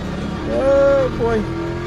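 Race car engine in a racing simulator video game, a single rising then falling engine tone lasting about a second, loud against a steady background drone.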